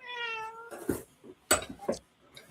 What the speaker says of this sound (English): Oh, my cat? Yeah. He is a chatterbox.